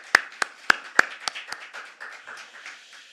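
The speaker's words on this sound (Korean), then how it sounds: "우리 크게 박수 한번 할까요?" A church congregation claps during a service: a few loud, sharp claps at first, then a looser scatter of softer claps that thins out and fades over a few seconds.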